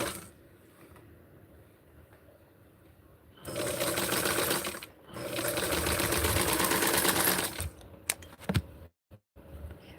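A sewing machine runs in two long steady bursts while hemming a barkcloth sleeve with maroon thread, its rapid needle chatter close and clear, followed by a few sharp clicks and brief silences.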